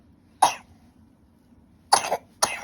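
Three short, sharp coughs from a baby, close by, one alone and then two in quick succession after a pause.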